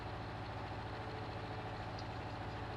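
An old tractor engine idling after being started up in a barn, a low, even, continuous rumble with a steady mechanical throb and no talking.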